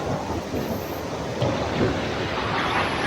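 Large volume of water rushes out of a dam opening beside a creek, a loud, continuous broadband roar with no pauses.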